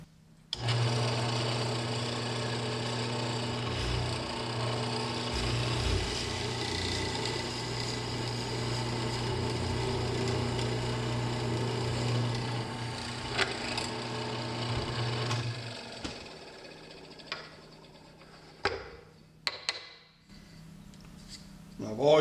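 A loud Delta bench mortiser drones and grinds steadily for about fifteen seconds while cutting a mortise into wood, then stops, followed by a few sharp knocks and clatters.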